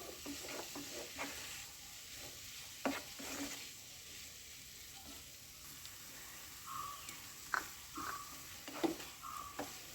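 Tomatoes and cumin sautéing in a pan for butter chicken, a soft steady sizzle broken by several scraping stirs, fairly quiet and close with no voices.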